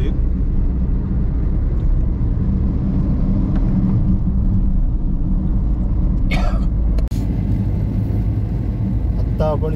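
A car climbs a small ghat on the Malvan Katta road in India, its engine and road noise rumbling steadily from inside the cabin while people talk over it.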